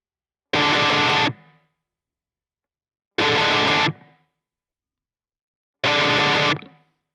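Distorted electric guitar in standard tuning plays the intro riff of a song as three identical loud chord blasts, each ringing about a second and then cut off, with silent gaps between them.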